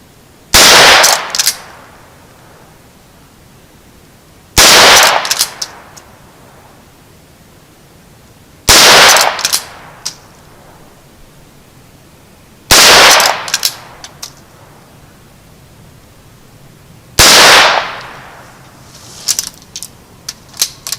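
A Henry 17HMR rifle fires Federal ammunition, five sharp, loud shots spaced about four seconds apart, each cracking close by and trailing off in a short echo, with faint handling clicks between shots.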